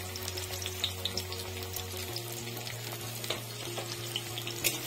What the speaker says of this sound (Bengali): তেলটা গরম হয়ে গেছে, এখন পেঁয়াজ কুচিটা দিয়ে দিব।